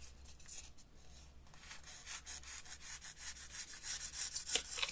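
Scissors or a blade trim excess material from a small craft ball for a light-up snowman, heard as soft, close rubbing and scraping strokes that become more rhythmic and repeated toward the end.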